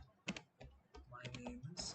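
Short bursts of keys clacking on a computer keyboard while JavaScript code is typed, close and fairly quiet, a few quick strokes with a voice speaking in between.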